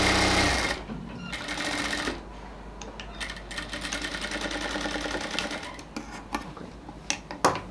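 Sewing machine stitching the sides of a ladies' pant waist, short bursts of rapid needle rattle broken by pauses and small clicks, close and fairly quiet.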